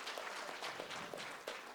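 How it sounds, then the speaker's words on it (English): Applause from an event audience honoring a television producer, a short dense patter of many hands clapping at moderate level with a few sharper accents, no talk over it. "Give him a round of applause"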